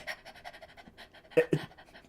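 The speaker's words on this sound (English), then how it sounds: "She needs some water. She's panting." A dog pants in quick, steady breaths, fairly close, with two louder huffs near the end.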